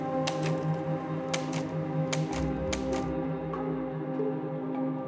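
Typewriter keys clacking in sharp irregular strikes over a steady low hum, busy for about three seconds and then going quiet, with no speech.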